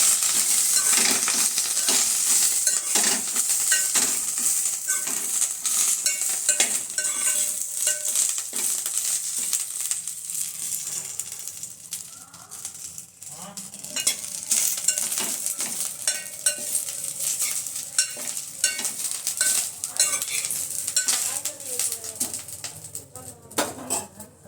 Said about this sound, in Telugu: అదే నెయ్యితో కరివేపాకు వేయించుకోవాలి